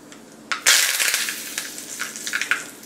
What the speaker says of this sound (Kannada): ಚಿಟಗುಟ್ಟದ್ದು ಒಂದು ಸ್ವಲ್ಪ ಕರಿಬೇವನ್ನು ಹಾಕೋಣ.